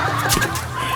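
Chickens cluck amid a busy, noisy background, the calls short and overlapping, fairly close and steady throughout.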